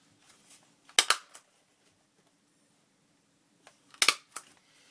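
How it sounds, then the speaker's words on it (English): Two sharp stapler clunks roughly three seconds apart, each a quick double snap, fastening a paper belly band onto a handmade junk journal; close and crisp in an otherwise quiet room. "I'm going to staple it on"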